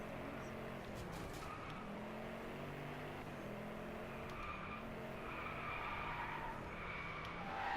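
Tires skid and slide through a drifting corner in the racing game Driveclub, with a steady engine drone and squeal running the whole time, loud and continuous, while people talk over it.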